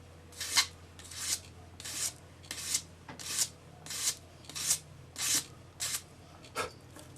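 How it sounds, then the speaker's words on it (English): A split mandrel sanding the inside of a jewellery ring at its solder join, giving about ten regular rasping strokes, each a short hissy scrub repeated at a steady rhythm close up. "use a split mandrel on the inside to tidy up your solder join there"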